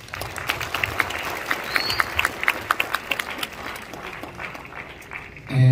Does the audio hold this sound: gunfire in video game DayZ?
no